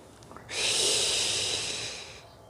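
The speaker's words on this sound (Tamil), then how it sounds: "அப்படியே மூச்சை இழுக்கிறப்ப நாக்கோட 2 சைடால் உள்ளே போகும் மூச்சு" A long, hissing inhale drawn through the sides of a curled tongue in a pranayama breathing exercise, one steady airy breath lasting under two seconds, close and quiet, with no talk.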